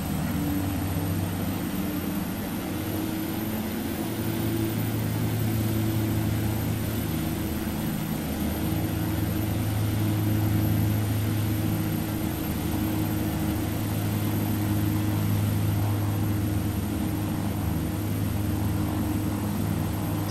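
Steady propeller aircraft engine drone at takeoff power in the X-Plane 11 flight simulator, a loud continuous low hum with slight swells in pitch, running alone for the whole stretch.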